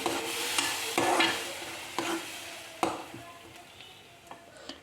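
A spoon scrapes and knocks around a pan in several irregular strokes as blended tomato paste is stirred over a soft background sizzle, close and fairly quiet.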